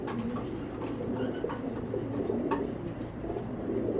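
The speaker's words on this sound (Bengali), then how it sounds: "আমি একটু দেখাই দিই কবুতর দুইটা" Racer pigeons coo softly nearby in low, repeated throaty calls over a faint background hum, with no one speaking.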